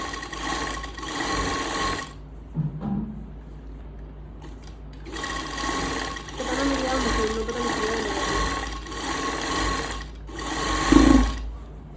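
A sewing machine stitches a firm seam along a joined panel of a suit during garment making, running in steady whirring bursts with brief pauses between them, fairly close and moderately loud.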